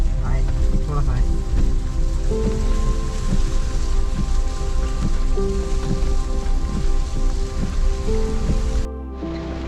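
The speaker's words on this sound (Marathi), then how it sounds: "आता मध्ये थोडाफार घ्यायला पाऊस आहे, थोडासा आहे." Light rain falls during a trek to Rajmachi fort, a steady soft patter over a low humming drone, with some talk mixed in.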